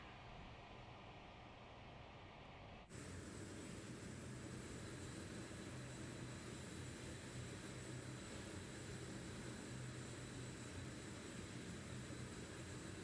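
The XP1 aircraft's engine in Microsoft Flight Simulator 2024, a steady, faint droning hum with a whiny tonal edge that jumps up in level after a few seconds and then holds constant, with no speech.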